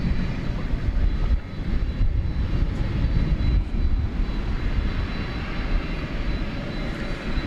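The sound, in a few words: UPS Boeing 767 cargo jet pushing back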